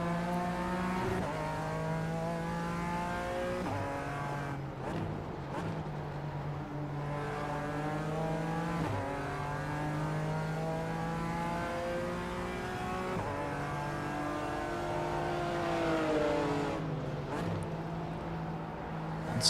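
BMW race car in the iRacing sim, engine revving hard through gears with a string of sharp downshifts, steady and close throughout, faint talk underneath.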